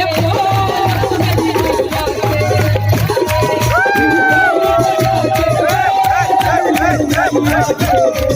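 A large crowd at an outdoor night show of devotional jas geet songs cheers and claps loudly and continuously, with shouts and a babble of voices over amplified music.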